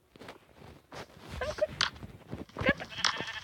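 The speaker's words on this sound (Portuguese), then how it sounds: "Um porco corre, galera. Um porco." A pig in a video game adventure makes short grunting squeals in a few quick bursts amid game noises, with a voice speaking faintly alongside.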